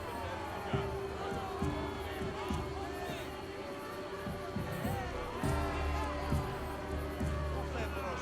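Arena crowd in Assassin's Creed Odyssey cheering and murmuring at a moderate distance, a steady hubbub with swells of shouting under in-game music.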